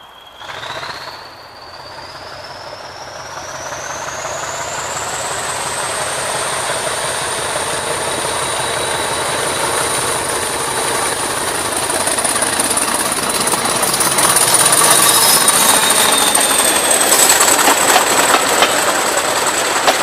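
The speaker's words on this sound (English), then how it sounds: "Well, by that sound it has to be a class 40." A British Rail Class 40 diesel locomotive passes, its engine drone building steadily with a rising whine that levels into a loud sustained roar, with no voices.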